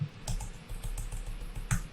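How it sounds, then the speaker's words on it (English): Code being typed on a computer keyboard, a quiet run of irregular key clicks with a few sharper taps, close and alone without speech. "So we're typing it here live"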